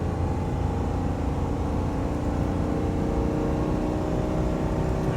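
A Ford F250 strains uphill towing a 20,000 lb hay trailer, its engine revving in a loud, continuous, rising roar that stays close and unbroken for the whole stretch.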